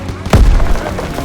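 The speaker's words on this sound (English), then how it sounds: "Grenade out!" A grenade explodes in the World War II shooter Call of Duty WWII, giving a single deep, loud boom that rumbles briefly over low battlefield background noise.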